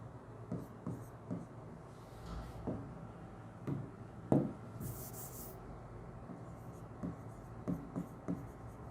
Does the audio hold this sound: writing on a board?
yes